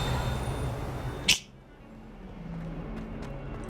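A cat in the Hogwarts Legacy video game gives a single short, sharp meow, followed by quiet ambience and a few faint ticks.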